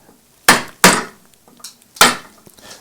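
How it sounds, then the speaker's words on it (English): A mallet strikes a deep gouge carving wood across the grain: three sharp, close knocks with uneven gaps, then a few faint ticks. "I'm going to use the deep gouge again, and this time a mallet because I'm going across the grain"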